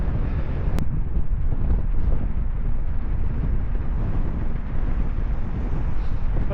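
Headwind buffets a cyclist's microphone on the Tarka Trail, a continuous loud low rumble and rushing noise that fills the whole stretch with no pauses.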